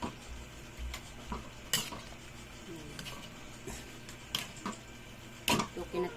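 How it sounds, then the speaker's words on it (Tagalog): A utensil stirs adobong kangkong, water spinach cooked with vinegar, seasoning and a little salt, in a pan, giving sporadic scraping clinks against faint background sizzle, soft and close. "Haluin natin para mahalo yung ano, yung suka, saka yung seasoning"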